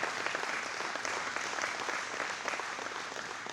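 An audience at a men's breakfast claps in sustained, even applause, heard faintly across a room with no pauses.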